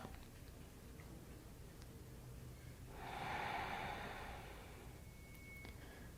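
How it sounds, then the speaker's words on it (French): Slow yoga breath drawn in and out near the microphone, a soft airy swell rising around the middle of a quiet, otherwise still room. "On se laisse bercer également par le bruit, le son de notre respiration."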